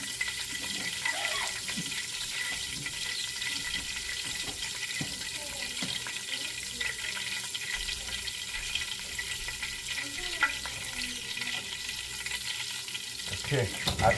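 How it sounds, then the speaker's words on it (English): Food frying in a pan while making legume with white rice, a steady broadband sizzle with scattered crackles and occasional stirring or scraping, continuous and fairly close throughout with no talk. "We're gonna fry this like that."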